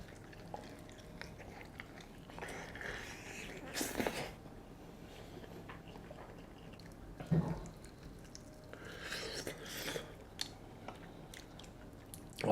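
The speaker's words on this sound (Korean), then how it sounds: "네, 그러면 먹어보도록 하겠습니다." Fried chili chicken with potatoes, from a franchise's signature menu, is chewed in quiet, moist bites with occasional louder crunchy and squishy bursts over a low background hum; no one speaks.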